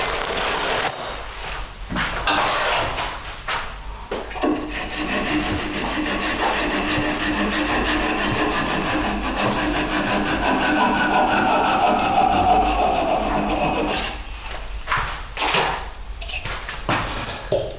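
Sanding sticks rub against a turned wooden vase spinning on a lathe, a steady raspy friction hiss lasting about ten seconds with brief scrapes and knocks at the start and end.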